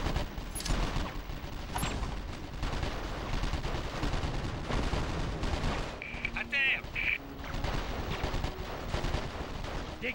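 Gunfire in 24: The Game, with sniper fire on a water tower, rattles on as steady, dense shots and bursts throughout. Electronic chirps sound near the end.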